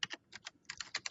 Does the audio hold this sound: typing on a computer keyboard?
yes